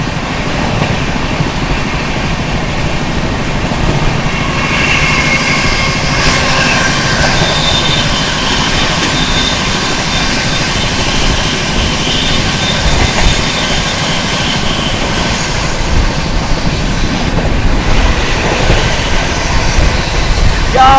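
Howrah Rajdhani Express running at about 130 km/h as it overtakes the Mahanagri Superfast Express: a loud, continuous rumble of wheels and rushing air with steady clatter and faint squeal, heard close from on board.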